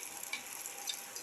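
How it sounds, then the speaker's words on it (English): Egg mixture for a cucumber tomato omelette hitting a hot pan, a short, even hiss of sizzling, close and alone. "Pour in the egg mixture."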